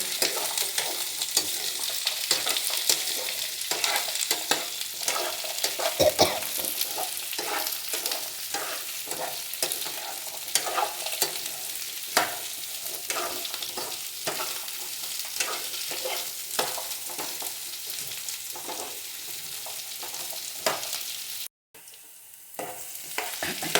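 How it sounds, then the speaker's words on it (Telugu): Pumpkin pieces fry with onion in a pan, a steady close hiss of sizzling oil broken by the regular scrape and tap of a spoon stirring, running on with no voices. "ఈ ఉప్పులు కొద్దిగా మెత్తగా అయ్యేదాకా వేయించుకోవాలండి. ఇలా కలుపుకుంటూ ఉండాలి."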